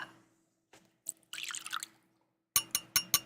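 Whiskey, a smoky, peaty pour, glugs from an awkwardly rounded bottle into a glass, with a short burst of liquid splashing followed by several distinct drips and clinks near the microphone, with no talking.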